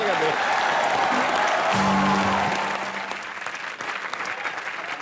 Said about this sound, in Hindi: उस आदमी के लिए जोरदार तालियां।